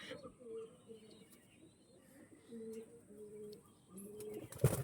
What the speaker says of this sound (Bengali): এই হচ্ছিল বন্ধুরা কোয়ালিটি পায়রা